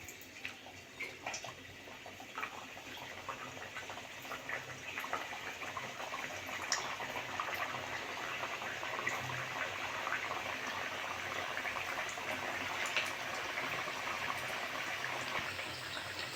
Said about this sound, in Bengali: তেলটা গরম হয়ে গেছে, আমি এবার ভেজে নেব।